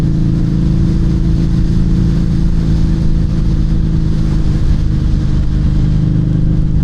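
A Harley-Davidson V-Rod motorcycle engine runs loud and close, a deep, steady, throbbing drone that holds for several seconds with no talking.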